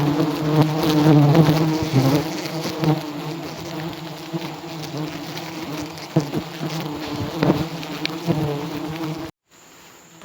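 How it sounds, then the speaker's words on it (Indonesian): Agitated honey bees swirl around a honey harvest, their dense buzzing steady and close, dropping out abruptly near the end. "Lebah sudah mulai bertebangan. Sudah mulai marah lebahnya."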